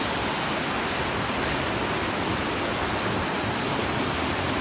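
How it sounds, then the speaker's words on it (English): River rapids at saw mill ruins in Perniö, Finland, a dense, loud, unbroken rush of white water close by with no other sounds. "these rapids go for about 28 meters."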